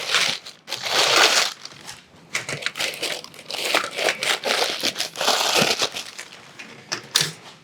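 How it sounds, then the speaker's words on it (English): Taped plastic bag being crushed and crinkled during unboxing, close-up, in irregular bursts of crackling with brief gaps and a few sharper tearing snaps. "Another plastic bag, but that one's taped."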